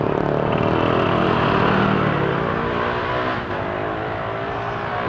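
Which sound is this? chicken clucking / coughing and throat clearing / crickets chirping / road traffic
road traffic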